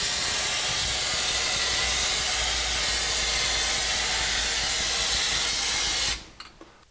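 Spray can hissing steadily and loudly at close range while paint is applied to bolts for a 1982 Jeep CJ7, a continuous spray lasting about six seconds before cutting off abruptly into near silence.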